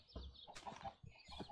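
A chicken in a video game clucks in quick, close, clear bursts, with a couple of higher squawking notes and no talk over it.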